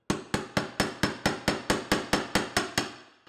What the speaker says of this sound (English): You can also use your hammer a little bit to tap in that pry bar